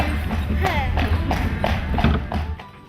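A horse pulling a hired tourist cart through Killarney, Ireland, toward Ross Castle clops along in a steady, close rhythm of hoofbeats, with voices and road noise underneath.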